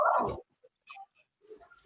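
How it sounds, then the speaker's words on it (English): Dogs barking in the background of a video call: one sharp bark up front, then faint, scattered yips and small noises in a mostly quiet line. "And Ram, I think the dogs are coming from you."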